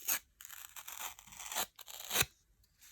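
Paper is torn against the grain in short, ragged rips and crackling bursts, close and fairly quiet, with uneven pauses between the tearing strokes and no speech.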